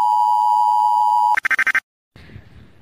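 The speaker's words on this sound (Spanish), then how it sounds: "Alarma de emergencia para la Ciudad de México." An emergency alarm tone for Mexico City: a long steady electronic beep, then a rapid series of about six short pulsed beeps, a brief silence, and faint noise afterward.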